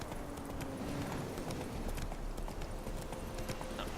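Roach, the horse in The Witcher 3, gallops with a steady, rapid clip-clop of hooves running continuously and fairly loud over a dense outdoor game backdrop, with no voice.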